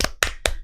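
Four sharp broadband slaps about a quarter second apart, close and fairly loud, as a few people clap briefly during a political party primary results announcement.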